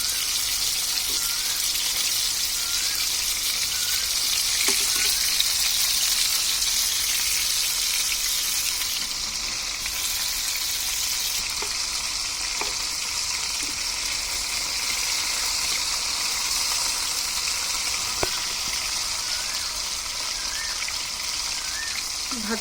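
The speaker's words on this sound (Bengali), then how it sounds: "বেশিক্ষণ সময় লাগে না, ফ্রাই থেকে ভেজে নিলেই হবে।" Chicken sticks deep frying in hot oil give a steady, dense sizzle and crackle that runs unbroken for the whole stretch, close and fairly loud, with a few faint clicks and no talking.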